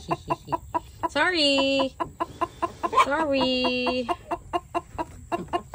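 Hens cluck and squawk in a backyard chicken coop during egg collection. Drawn-out, rising calls stand out over steady, rhythmic clucking nearby, and a person briefly speaks.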